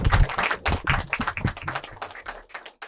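An audience at a stand-up comedy show claps in dense, steady applause that carries on throughout and tapers slightly toward the end.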